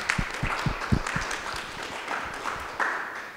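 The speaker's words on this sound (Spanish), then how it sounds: "Démosle un aplauso" Audience applause at a community arts panel discussion, a short round of clapping from a modest crowd that is strongest at the start and then tapers off, fairly close.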